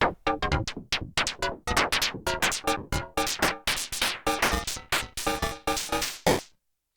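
Glitchy percussion patch from an Arturia MicroFreak synth, called Swing Glitch: a rapid stream of punchy, clicky synthetic hits in a swung, stuttering rhythm, loud and close, ending abruptly after about six seconds.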